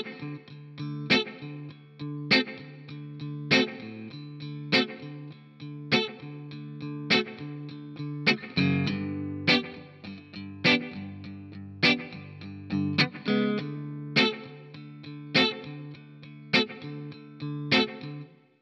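Electric guitar with distortion playing 12-bar blues, with loud, evenly spaced chord stabs forming a steady shuffling rhythm and a denser run of notes midway, no talking over it.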